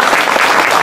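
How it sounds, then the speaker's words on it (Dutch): Audience applause for Ida after a West Frisian Christmas story, a dense, steady wash of many hands clapping at close range, filling the short moment without a break. "Applaus voor Ida."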